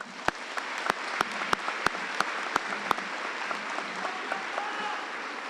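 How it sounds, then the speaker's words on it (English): Audience applause at a high school graduation ceremony, opening with sharp, evenly spaced nearby claps over a wash of crowd clapping that settles into a steady patter. "Let's give Mary a round of applause."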